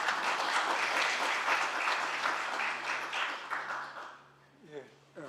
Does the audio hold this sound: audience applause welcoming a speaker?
yes